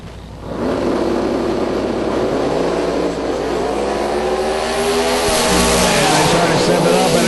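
Drag racing car at the 2012 Yellow Bullet Nationals firing up, a loud engine roar that swells and holds with rising revving tones, heard from a distance at a racetrack.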